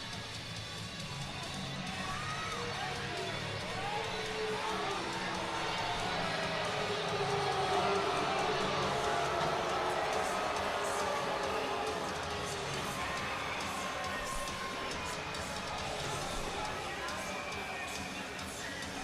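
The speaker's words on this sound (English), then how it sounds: "Crowd does not like the call, but Storjahan's going 2 minutes for slashin" A hockey arena crowd murmurs and jeers in sustained disapproval of a slashing penalty call during a minor-league game, a broad, steady roar of many voices that swells slightly midway and holds for the full stretch.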